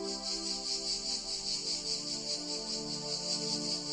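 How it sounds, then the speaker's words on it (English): A nighttime chorus of cicadas shrills in a dense, continuous pulsing drone, steady and fairly loud, with no voices over it. "we fell asleep to the chorus of the cicadas"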